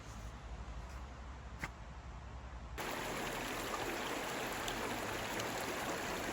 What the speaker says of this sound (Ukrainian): Тече річка.